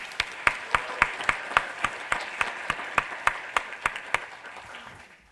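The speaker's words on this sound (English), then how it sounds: "And so I just want to give Jerry a round of applause for everything he's done." A small audience at a talk gives a speaker a round of applause: a sparse, fairly quiet run of individual claps in a slow, regular rhythm that thins out and stops after about four seconds.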